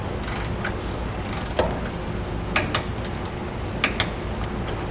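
Ratchet clicking in short runs while tightening bolts during installation of Air Lift LoadLifter 5000 air helper springs on a 2015 Chevrolet, over a steady background hum, with a few sharper metallic ticks.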